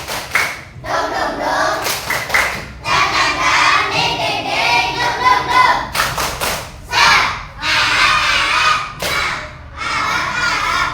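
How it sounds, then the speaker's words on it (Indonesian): A classroom of children does the 'tepuk semangat' rhythmic clapping routine as an ice-breaker, with loud, repeated bursts of group clapping and thumps in a lively pattern and a few pauses between phrases. "Tepuk semangat ya"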